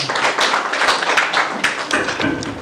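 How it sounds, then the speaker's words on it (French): An audience applauds the mayor at the opening of an economic forum in Kétou: close, brisk overlapping handclaps sound loudly for the whole stretch, thinning slightly toward the end. "On va l'applaudir s'il vous plaît, il est là."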